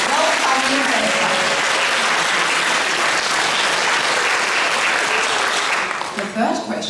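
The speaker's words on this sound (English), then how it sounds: "A round of applause for our welcoming person" A loud, dense burst of audience applause at a children's graduation performance, sustained clapping from a full room for several seconds before tapering off near the end.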